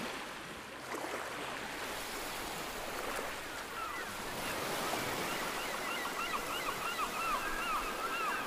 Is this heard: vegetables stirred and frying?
no